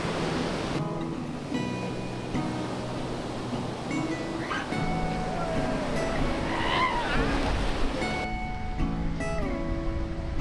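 Continuous rushing surf of ocean waves at Papanasam beach in Varkala, Kerala, a steady broad wash with wind noise, while tonal sounds and distant voices drift over the shore.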